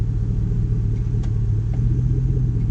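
A stock 5.3 LS V8 idles in neutral with a steady, even low rumble, close and continuous throughout, with no dips or surges.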